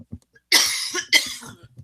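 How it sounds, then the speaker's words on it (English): Two harsh coughs from someone speaking during an online writing class, the first a longer burst and the second shortly after, close to the microphone and separated by a brief pause. "I'm going to cough, hold on a second."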